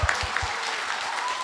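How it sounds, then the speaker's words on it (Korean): A crowd at a public hearing on relaxing building height limits near Bukhansan in Gangbuk applauds in a dense, brief burst of clapping. "북한산 고도 제한의 세 가지 완화 방안에 대해서 동의하시면 큰 박수 한번 부탁드리겠습니다."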